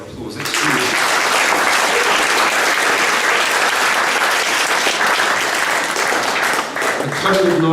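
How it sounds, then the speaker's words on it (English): A school prizegiving audience breaks into loud, continuous applause that builds quickly and holds steady for several seconds, with a voice returning near the end. "Give her a round of applause."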